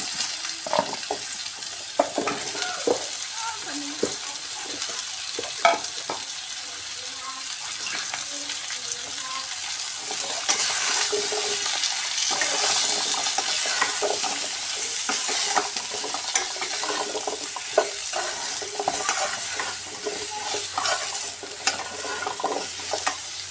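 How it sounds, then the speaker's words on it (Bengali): Chopped bottle gourd, potato and sweet potato tip into a hot pan and start frying in a loud, continuous sizzle, with stirring scrapes and clatters throughout and a fiercer hiss partway through, no voices. "এবার দিয়ে দিচ্ছি লাউ, আলু আর মিষ্টি আলু একসঙ্গে কেটে রেখেছিলাম, ওটা দিয়ে দিচ্ছি।"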